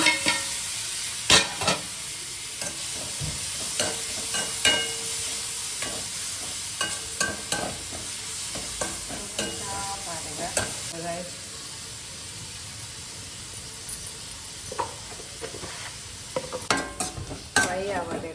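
Tomatoes fry in a pan, a soft continuous sizzle broken by frequent clinks and scrapes of a spoon stirring against the metal, with occasional voices in the background.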